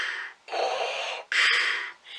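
Darth Vader's mechanical respirator breathing from Star Wars, a slow, loud, close rasping in and out through the mask, heard alone in long alternating breaths.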